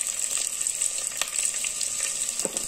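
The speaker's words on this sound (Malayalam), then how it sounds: "ഇനി ഇതിലേക്ക് നീളത്തിൽ മുറിച്ച സവോള ചേർത്ത് കൊടുക്കാം." Sliced onions frying in a pan for a crab curry, a steady close sizzle with a few soft stirring clicks and no talk.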